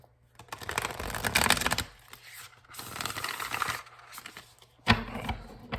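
Tarot deck being shuffled by hand in several riffling bursts separated by brief pauses, close up, with a sharp tap near the end as the cards are squared.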